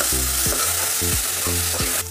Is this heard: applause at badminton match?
no